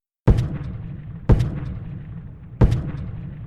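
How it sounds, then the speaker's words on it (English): Heavy artillery guns firing three separate booming shots at even intervals, each a sharp loud blast that rolls off into a long rumbling decay. "2 heavy guns open up and fire tons of metal, the South Carolina regiments"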